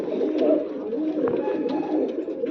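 A male pigeon kept at home coos close by, a steady rolling, throaty murmur that runs through the whole moment with small swells.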